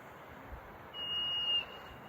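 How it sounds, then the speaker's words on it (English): Marmot whistling near an alpine lake: a single clear, steady high-pitched whistle lasting about half a second, fairly distant over a quiet outdoor background. "The marmots are out whistling back and forth right now."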